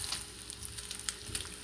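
Bread filling sizzles and fries in a pan, a steady crackling hiss with scattered louder pops, close and continuous with no talking.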